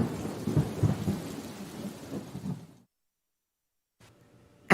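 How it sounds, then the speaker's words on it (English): A thunderstorm rumbles with deep thunder over steady rain for nearly three seconds, then cuts to silence before a brief faint sound returns at the end. "the storm was still making the same loud noises outside"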